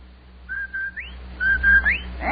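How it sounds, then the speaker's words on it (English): A radio program plays the Rinso White whistle, two rising-and-falling whistled phrases, each a held tone that swoops up at the end, clear and fairly close over a faint hum. "That's the Rinso White whistle"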